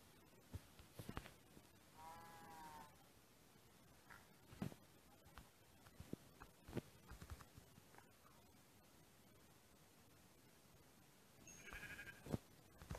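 Sheep in the block-building game Mastercraft bleat a couple of times, faint wavering cries standing out from quiet scratchy clicks and soft footstep-like taps, with no talking.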